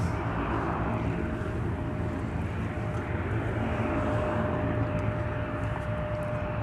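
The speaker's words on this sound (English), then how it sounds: "So we have our FedEx feeder approaching on taxiway Mike." A FedEx feeder aircraft taxis on a taxiway at Minneapolis–St. Paul airport, giving a steady, loud engine rumble with a faint constant whine, continuous and unbroken throughout.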